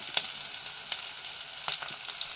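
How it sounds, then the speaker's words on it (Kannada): Curry leaves and onion frying in a pan until brown, a steady soft sizzle punctuated by several sharp clicks of a spatula stirring against the pan. "ಕರ್ಬೇವಿನ ಸೊಪ್ಪು ಈರುಳ್ಳಿ ಇದು ಸ್ವಲ್ಪ ಬ್ರೌನ್ ಕಲರ್ ಆಗೋವರೆಗೂ ನೋಡಿರಿ ಈ ಥರ"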